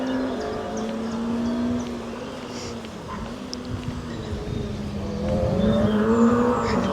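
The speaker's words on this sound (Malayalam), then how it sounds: "കാറിൻ്റെ സൗണ്ട് ഇവിടം വരെ കേൾക്കാൻ പറ്റുന്നുണ്ട്." Rally cars from a French Rally Cup event in Morbihan drone and rev at a distance, a steady engine hum rising and falling in pitch over several seconds, growing somewhat louder toward the end with faint crowd noise.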